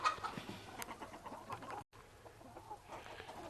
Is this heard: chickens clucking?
yes